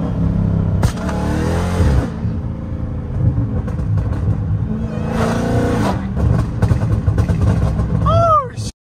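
A supercharged car in track mode accelerates hard, its loud, close engine roaring and rising in pitch through gear changes, with voices talking over it and a brief squeal near the end.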